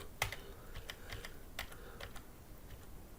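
Light tapping on a computer keyboard while working in a terminal, a short irregular run of soft key clicks, close and quiet.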